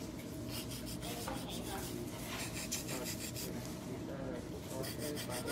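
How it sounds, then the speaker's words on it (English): Coffin-shaped nails get a rough filing with a nail file, a quiet, continuous scratchy rasp of back-and-forth strokes. "So we're just doing a little bit, just a rough file."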